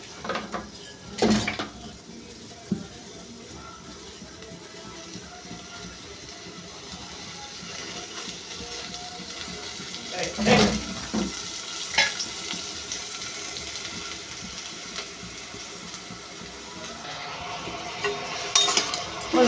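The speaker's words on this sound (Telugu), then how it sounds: "ఇప్పుడైతే మనం ఉల్లిపాయలు అయితే ఫ్రై చేసుకుందాం" Onions fry in oil in a pan on a gas stove, a low steady sizzle with a few sharp clatters of utensil against pan scattered across the stretch.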